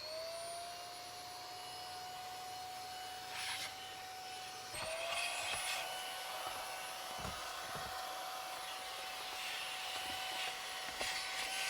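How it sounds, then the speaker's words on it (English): An Aspiron vacuum cleaner runs steadily for a quick car clean-out, a loud continuous whine with a high pitched tone that shifts slightly partway through, plus occasional bumps and clicks from the nozzle. "I also love using this vacuum for a quick car clean out."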